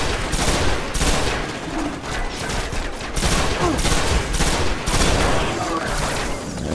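Rapid gunfire from the video game Destiny crackles nonstop in dense, loud bursts with booming low thuds, near and continuous throughout.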